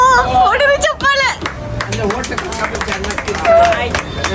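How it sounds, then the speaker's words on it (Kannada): Family members clap their hands together at a home gathering, quick scattered claps mixed into lively overlapping chatter and crowd babble throughout. "ಹೊಡಿರಿ ಚಪ್ಪಾಳೆ"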